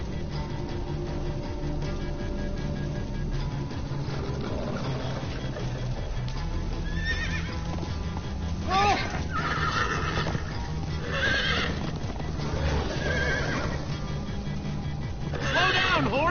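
Rapid hoofbeats of a galloping horse pound continuously while it whinnies several times in the video game Minecraft: Story Mode, with game music and other noise in the background.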